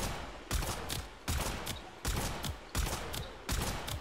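Phenmor rifle from Warframe firing in five repeated bursts, each a sharp loud crack with a short tail, spaced roughly every three-quarters of a second with no voices.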